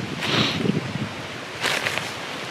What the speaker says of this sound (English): Doesn't help that the direction that this wind has chosen today,